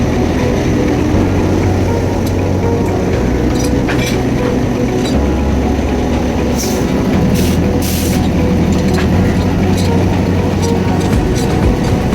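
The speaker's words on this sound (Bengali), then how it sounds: "এই লক দিয়ে ট্রেনের ইঞ্জিনকে ট্রেনের বগির সাথে আটকে দেয়" At a railway platform on the Mongla to Khulna line, a train engine is locked to its carriage by a coupling. The engine rumbles steadily and loudly, and a few sharp metallic bursts break through midway.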